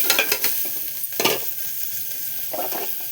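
Onion sautéing in a pan on a low flame, a quiet sizzle beneath a few scattered stirring scrapes and light clinks of a utensil against the pan.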